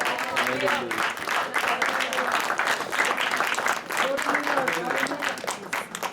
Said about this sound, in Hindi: ताली से प्रभु को खूब की तारीफ कीजिए।